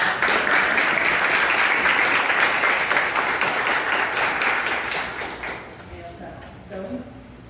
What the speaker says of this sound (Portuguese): Vamos dar uma salva de palmas primeiro para